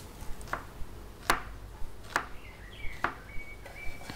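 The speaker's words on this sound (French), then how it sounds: "J'épluche la carotte et la coupe en biseaux." A knife cuts a peeled carrot on the bias against a cutting board: four sharp, close knocks spaced about a second apart, with a faint thin whistle in the background near the end.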